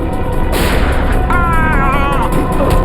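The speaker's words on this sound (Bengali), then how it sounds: "গুলির শব্দ আবার কোত্থেকে এলো?" A gunshot rings out in a Bengali CID crime-drama scene as a single sharp, loud burst partway through, set against continuous background noise and a rising tonal sweep.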